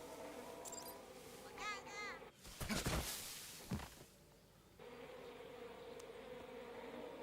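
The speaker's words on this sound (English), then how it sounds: "No, that's a bee." A bee buzzes in Metal Gear Solid 3, a steady faint droning hum running through most of the stretch, with a louder noisy burst and brief chirps in between.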